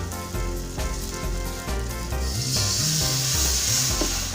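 Spice paste for Betawi cucumber pickle sizzling in a pan as a little water is poured in, a close steady crackle that swells into a brighter hissing burst partway through.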